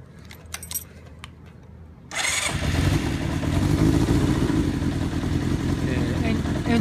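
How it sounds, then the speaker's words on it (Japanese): A Kawasaki Zephyr 400 (ZR400C) motorcycle is started with its electric starter after some keys jangle, then its engine settles into a steady, loud idle rumble close by. "次にエンジン動作確認いきたいと思います。"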